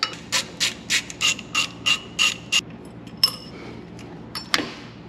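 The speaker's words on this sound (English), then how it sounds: "take the accessory pulley off for 10mm bolts" Ratchet wrench loosening 10mm bolts on a Porsche 944 accessory pulley, about eight crisp rhythmic clicking bursts close up, followed by a few scattered metallic taps.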